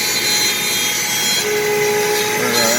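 A power sander works over a wooden ice chest facade, giving a loud, continuous abrasive whir and rubbing with slight pitch shifts as it moves, close and alone with no talking.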